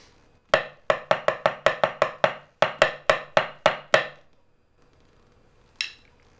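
Marching snare drum played in 6-8 time with duplet pairs squeezed in, a dense run of sharp, close strikes in two rolling groups, followed by a pause and one lone faint tap.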